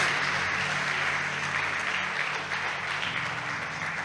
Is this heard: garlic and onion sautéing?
no